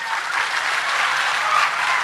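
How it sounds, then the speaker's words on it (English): A crowd at an Asaduddin Owaisi political rally in Hyderabad claps continuously, a loud, dense wash of applause that holds steady without pause. "Now, can you clap now,"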